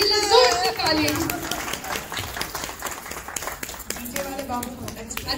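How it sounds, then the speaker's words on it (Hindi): Guests at a baby shower clap for Bua Nani, a mixed round of scattered hand claps from a small indoor gathering under lively talk, with children's voices mixed in. "बुआ नानी जी के लिए जोर से ताली।"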